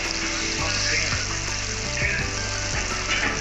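Mustard and poppy seed paste with green chillies hits a hot pan in a Bengali doi pabda recipe, giving a steady loud sizzle that keeps going with faint clinks under it.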